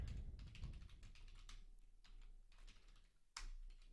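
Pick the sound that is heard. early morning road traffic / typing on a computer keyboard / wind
typing on a computer keyboard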